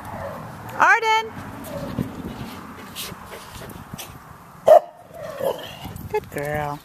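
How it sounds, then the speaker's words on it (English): A dog gives a few short, sharp barks spaced several seconds apart, close by. A person talks quietly in between. "Why are you barking?"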